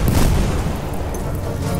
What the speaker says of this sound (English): I threw the grenade, then he died.